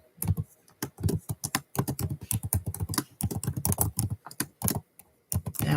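Rapid, uneven typing on a computer keyboard, close and fairly loud, with dense bursts of key clicks separated by brief pauses and no talking.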